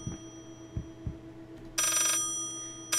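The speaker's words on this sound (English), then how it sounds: "I think that may actually be a phone ringing in reverse" A telephone rings in reverse inside the horror video game Layers of Fear: low dull thuds come first, then a loud, bright ringing burst lasting under a second, cut off and followed by a second burst.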